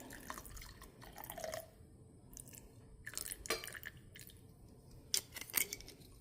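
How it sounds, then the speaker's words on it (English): Vodka is poured into cocktail glasses in soft, intermittent splashes and drips, with light clinks and small liquid trickles in a quiet room and no talk. "to our glasses, we are now going to add in our vodka, our lime juice, and our simple syrup."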